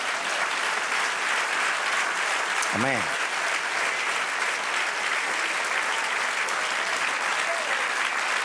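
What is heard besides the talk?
church congregation applauding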